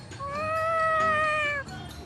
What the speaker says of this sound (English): Were you talking to that kitty?